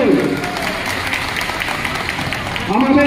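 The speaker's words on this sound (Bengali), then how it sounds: "হাততালি দিন সকলে।" A crowd at a Trinamool candidate introduction event in Ranaghat claps steadily in a dense, continuous patter, with someone speaking over the applause at the start and end.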